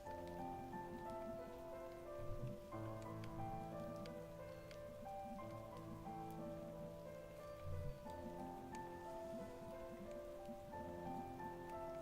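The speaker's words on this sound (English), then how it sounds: "Like the water actually feels like the rain is surrounding you" Rain ambience in the video game Night in the Woods: a soft, continuous patter of rain on surfaces with scattered droplet ticks, steady and fairly quiet with no voices.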